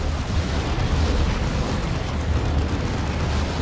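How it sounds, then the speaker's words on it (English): Grenade blast in Warhammer 40,000: Dawn of War 2, a broad rumbling explosion that fills the whole stretch with a dense, roaring wash of noise and no voices. "It's a good grenade."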